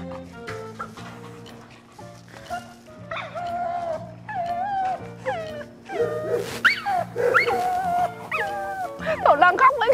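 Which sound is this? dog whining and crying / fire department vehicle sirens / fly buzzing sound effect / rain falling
dog whining and crying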